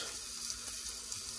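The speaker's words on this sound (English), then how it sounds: "Put your fish down with the skin up. Right. And just lightly fry it until it's cooked" A fish fillet fries skin side up in a preheated pan, giving a steady, close hiss of sizzling oil with no talking.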